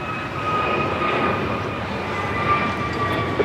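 A fixed-wing airplane at LAX airport gives a steady, loud, close engine roar that holds for the whole stretch with no one speaking.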